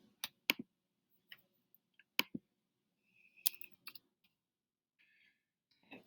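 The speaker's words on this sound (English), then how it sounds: "let's go ahead and type those into Desmos" Keys tapped on a computer keyboard while entering numbers into a graphing calculator: a sparse run of separate sharp clicks with pauses between them, quiet and close, with no talking.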